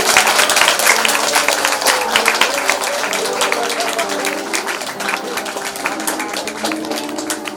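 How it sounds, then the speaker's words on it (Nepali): Guests at a Nepali Christian wedding clapping during a photo session, dense steady applause from a crowd nearby, with voices faintly mixed in underneath. "ताली बजाउनुहोस्।"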